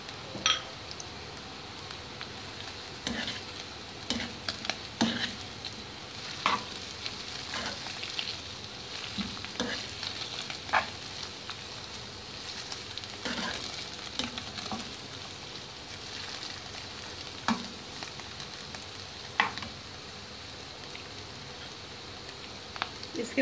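Ingredients for chicken vegetable fried rice sauté lightly in a pan, a steady low sizzle with scattered clicks and stirring taps throughout, fairly faint and close.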